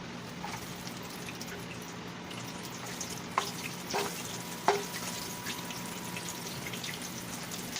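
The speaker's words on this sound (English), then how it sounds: "my oil is hot enough already. I can hear it popping." Hot oil sizzles steadily with a faint hiss, punctuated by a few sharp pops and crackles as chicken nuggets fry.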